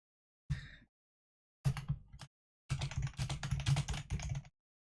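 Computer keyboard typing in three bursts, a short tap cluster, a brief run, then a longer steady flurry of keystrokes, close and fairly quiet with silence between.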